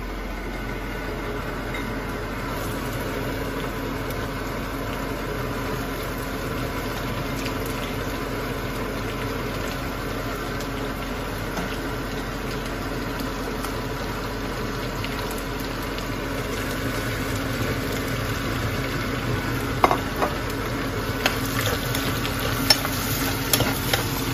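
Onions frying in a pan, a steady low sizzle continuing throughout with a faint background hum and a few light clicks near the end.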